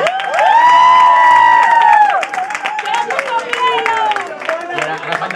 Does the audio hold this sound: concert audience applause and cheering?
yes